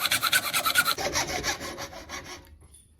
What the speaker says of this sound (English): Okay, now I'm just going to take my hacksaw and cut a length of it.